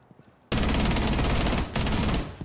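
Rapid automatic gunfire in a Rainbow Six Siege replay, a loud sustained burst that starts abruptly, breaks briefly, then continues with dense rattling shots.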